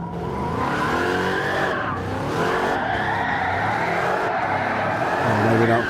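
Car drifting in Gran Turismo 7, with a sustained loud engine roar and shifting tire squeal as the tires slide, continuous and close throughout, with some faint talk mixed in.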